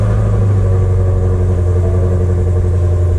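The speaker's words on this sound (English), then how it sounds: "this is a cold startup on a 2017 Shelby GT350" A 2017 Shelby GT350 idling in quiet mode shortly after a warm-ish startup, a loud, steady, deep exhaust burble with a strong low rumble that holds constant and close throughout.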